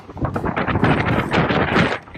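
Gusty wind at Bondi Beach, Sydney, on a cold, stormy day buffets the microphone in strong rumbling bursts that rise and fall, with no voices.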